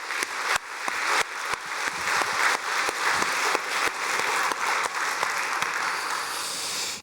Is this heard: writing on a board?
no